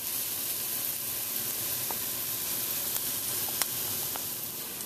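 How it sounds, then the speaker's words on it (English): Curry powder spices toast in a pan on low heat with a steady, soft sizzling hiss, broken by a few faint clicks and ticks. No one speaks. "all I'm doing by toasting it is releasing all the spicy goodness"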